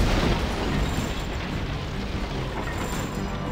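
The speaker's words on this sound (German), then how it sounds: "Die scheiß Kanonen hier oben." Cannons fire in the medieval strategy game Castle Strike, a loud, dense rumble of blasts and booms that starts strongest and then settles into a steady churning roar.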